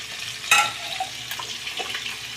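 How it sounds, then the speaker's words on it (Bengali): Tilapia fish frying in hot oil in a home kitchen, a steady soft sizzle with a sharp spatter or clink near the start and light stirring noises. "এদিকে তেলাপিয়া মাছ ভাজছি"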